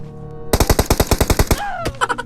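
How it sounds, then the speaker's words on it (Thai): A rapid automatic burst of machine gun fire in the battle royale game PUBG Mobile, about ten loud evenly spaced shots, then a whooshing tone and a few more quick shots. "โอ้ยเขียยิงโคตรแม่นเลยว่ะ"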